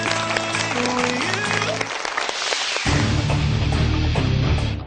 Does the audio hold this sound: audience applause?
yes